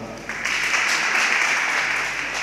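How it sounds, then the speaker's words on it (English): A crowd at a constituency election results announcement claps for a candidate, a brief burst of steady applause of moderate loudness heard from some distance. "A clap for her."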